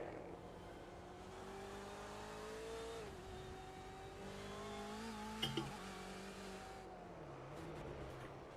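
An onboard race car engine in iRacing, a BMW lapping Mid-Ohio, drones steadily and close up, its pitch rising and falling through gear changes, with a brief sharp knock of contact partway through.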